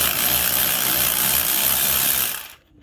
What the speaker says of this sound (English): I have my Milwaukee 3/8 ratchet with a 1/2 inch converter on the tip of it.